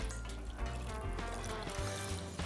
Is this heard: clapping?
no